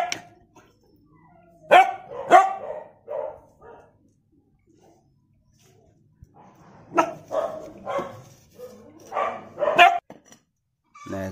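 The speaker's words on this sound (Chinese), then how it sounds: "来看这几个小狗，" Several puppies give short, high yips and barks up close in two clustered bursts separated by a quiet pause, with some whimpering mixed in.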